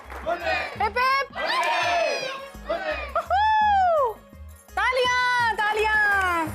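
Voices at a wedding sangeet celebration shout rhythmic cheers in several loud bursts, riding over a steady, thumping music beat.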